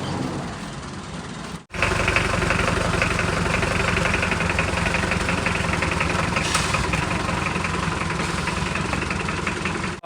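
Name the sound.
motorcycle engine idling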